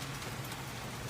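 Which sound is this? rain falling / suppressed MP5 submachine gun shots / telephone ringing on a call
rain falling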